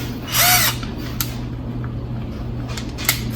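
A Juemel 20V MAX cordless drill/driver gives one short, high whirring burst, followed by a few faint clicks from the chuck or switch against a steady low background hum.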